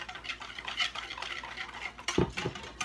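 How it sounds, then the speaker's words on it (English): A whisk stirs a paste in a bowl, making soft scraping swishes with a sharper clink of the whisk against the bowl near the end, close and fairly quiet. "Okay, so I got a whisk. I'm gonna mix it."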